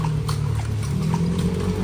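Horse hooves clip-clop steadily while a kalesa carriage is pulled through the streets of Vigan City, Ilocos Sur, the soft rhythmic knocks riding over a constant low rumble of traffic and road noise.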